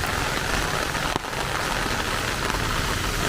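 Heavy rain pours steadily onto surfaces in a steady, dense roar with no pauses, loud and close, coming down on a road on the way to a school.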